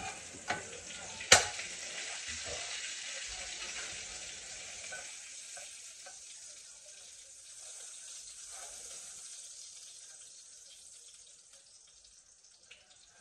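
Hotdog frying in a pan, a steady broadband sizzle that starts loud with a couple of sharp clacks near the start, then gradually softens and settles into a quieter, even crackle.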